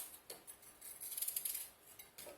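A knife cuts apples into large chunks on a board for a rustic apple and cinnamon tart, giving soft, close, crisp slicing and light tapping clicks at a quiet level, with no talking.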